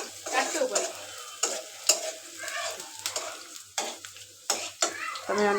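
A utensil stirs and scrapes noodles frying in a pan in a home kitchen. The strokes are repeated and irregular over a soft, steady sizzle, close and fairly quiet.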